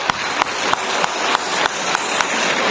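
Schoolchildren at a UP Skill Quest 2023 event in a hall clap together, a steady wash of applause with a few sharper claps standing out, moderately loud and without talk.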